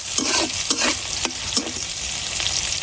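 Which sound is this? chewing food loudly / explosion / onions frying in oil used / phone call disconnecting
onions frying in oil used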